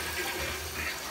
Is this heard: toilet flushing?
yes